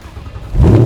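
A Ford Coyote V8 in a 1965 Backdraft Cobra fires up, a short low rumble that swells quickly into a loud, close startup roar.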